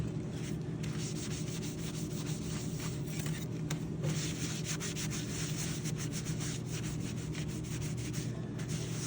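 Steady scrubbing and rubbing as ink grounds, litho crayon and soap ground drawing are wiped off etching test plates in a printmaking studio, continuous and close with no talk.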